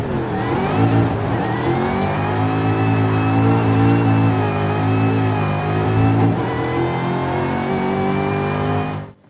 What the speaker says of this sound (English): I'd be using the clutch to actually flick the car around